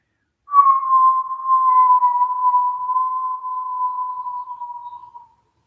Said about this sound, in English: This whistle breath is very calming, very soothing to the nervous system.